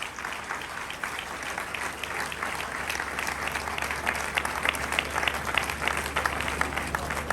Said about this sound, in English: an applause for our 126th inaugural lecturer as he stands for his citation